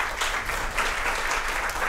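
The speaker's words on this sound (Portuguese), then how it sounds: "os aplausos de todos" An audience at a chamber music event at the Brazilian Academy of Letters applauds Maestro Edino Krieger with brief, steady, moderately loud clapping that lasts under two seconds.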